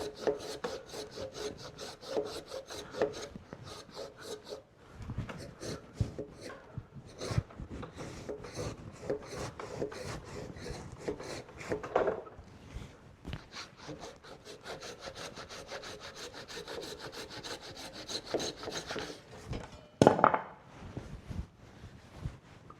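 A Japanese saw cuts a wooden tenon in long, steady rasping strokes, close and continuous with an even back-and-forth rhythm, and no talking over it.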